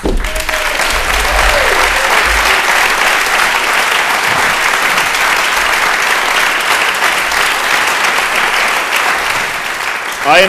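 Loud, sustained applause from a crowd after a musical duo's performance, steady clapping filling the whole stretch without letup.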